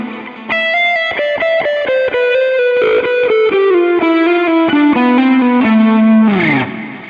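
An electric guitar plays a distorted, chorus-tinged melodic passage, loud and close, with sliding legato notes descending step by step and no voices.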